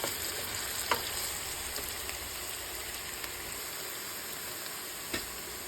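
Sliced onions and green chillies sauté in a pan for chicken biryani, giving a steady, close crackling sizzle with a few faint clicks of a spatula against the pan.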